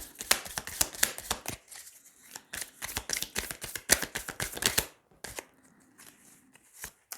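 Tarot cards are riffled and shuffled close up in a quick run of crisp flapping snaps, followed by quieter, sparser taps and slides as cards are drawn and laid down.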